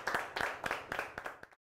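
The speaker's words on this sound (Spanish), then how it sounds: "Muchos aplausos para Dios." Short burst of audience clapping in a studio setting, several distinct sharp claps in an uneven rhythm that fade out quickly.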